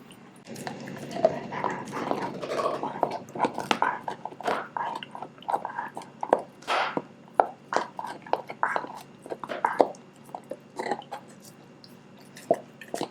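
A German Shepherd puppy gnaws a raw bone: wet, irregular gnawing and crunching close up, a steady run of chewing sounds with short pauses, no voices.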